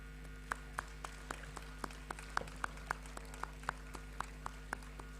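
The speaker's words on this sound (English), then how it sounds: "give yourself a big round of applause because you truly deserve it" At a university awards night, a few sparse hands clap in a steady, evenly spaced rhythm, faint and distant over a low hum rather than a full round of applause.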